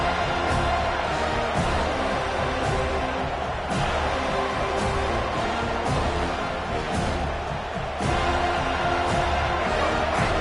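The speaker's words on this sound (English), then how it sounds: "Decibels rising as the crowd gets behind this defense on third down." Crowd noise swells in the NCAA 25 college football video game as fans get behind the defense on third down, a steady dense roar with occasional cheers running throughout under game sounds.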